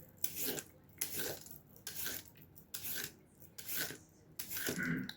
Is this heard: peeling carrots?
yes